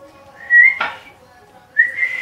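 Whistled notes from a person, a short rising tone followed by a second longer whistle after a pause, fairly close and clear, with a brief burst of noise between them.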